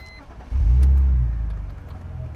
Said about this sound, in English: put your foot on the clutch, brake, then you want to start the car